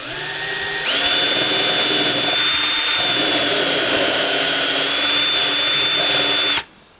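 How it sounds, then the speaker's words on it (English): A power drill bores a counterbore into wood for a garden trug build, a loud steady high whine running about six seconds after a short lower start, then cutting off abruptly. "I'd drill the counterbore first."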